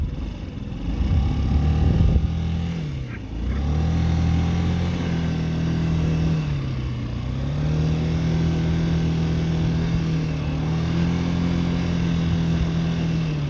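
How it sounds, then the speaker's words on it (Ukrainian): A small Honda Tact AF79 fuel-injected scooter engine runs steadily up close, its pitch dipping and rising slightly as the throttle shifts, with no talking. "Двигун працює ідеально."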